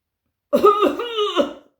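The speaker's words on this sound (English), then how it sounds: "Blokes all over the place, coughing." Three quick, rough coughs in a row from men, close up and fairly loud, with brief silence before and after.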